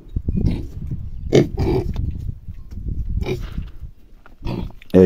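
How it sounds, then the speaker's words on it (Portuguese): A pig in a confinement pen on a farm raising free-range-type pigs grunts close by in short rough bursts, several snorts and grunts spaced across the moment with low rumbling between them. "esse aqui, esse ali é o porco"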